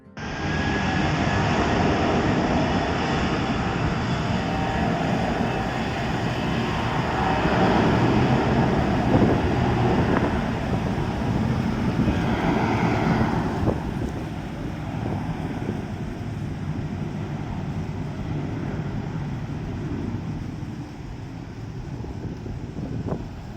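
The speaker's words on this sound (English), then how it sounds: "that aeroplane is about to land, take off" A jet engine roars loudly and steadily, swelling in the middle before easing off, like an airplane powering up for takeoff.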